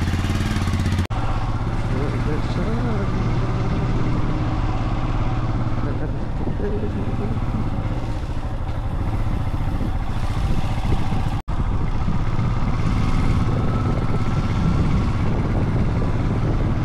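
Motorcycle ride on the way to a Christmas church gathering, the engine droning steadily up close with wind rumble throughout and a couple of brief cuts.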